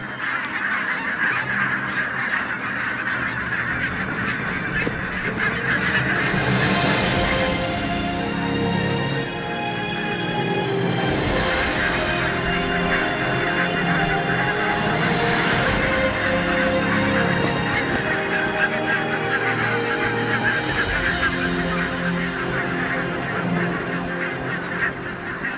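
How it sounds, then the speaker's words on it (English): A large flock of barnacle geese wintering on farmland in the Scottish islands, a dense continuous chorus of overlapping honks and yelps, loud and close with a steady crowd texture throughout. "Barnacle geese."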